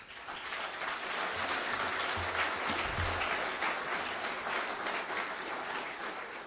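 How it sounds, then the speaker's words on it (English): Steady, sustained round of applause from an event audience, a dense hiss of many hands clapping at an even level throughout, heard from a little distance. "So let's give them a round of applause."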